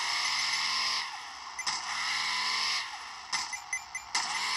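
Car engine in the mobile game Hill Climb Racing, a loud synthetic buzzing drone that repeatedly revs up and drops off, broken by short sharp bursts and a few brief clicks.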